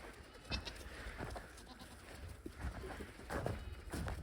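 On a farm in winter, a goat bleats and cries out repeatedly in short, insistent calls over a faint outdoor background.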